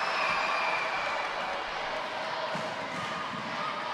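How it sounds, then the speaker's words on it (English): Crowd cheering at a Gibraltar v UAE netball match in the Netball Europe Open Challenge, a steady roar of a large indoor audience with faint ball bounces beneath it. "And the crowd's responding to lift Gibraltar"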